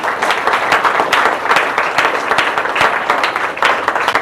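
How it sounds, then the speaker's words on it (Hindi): A crowd breaks into loud, sustained applause for a named guest at a gathering, many hands clapping densely and steadily close by, with no one speaking through it. "उनके लिए जबरदस्त ताली होनी चाहिए"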